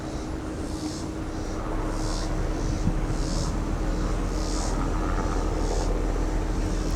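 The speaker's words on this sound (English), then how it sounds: "The helicopter tour flies overhead." A helicopter flies overhead at a zoo, its engine droning continuously with a low rumble and faint rhythmic rotor chop, fairly loud throughout with no voices.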